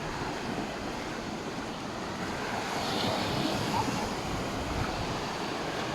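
Steady wash of ocean surf at Cala Varques with broad, continuous rushing noise and some wind buffeting, no distinct breaks between waves, moderately loud throughout.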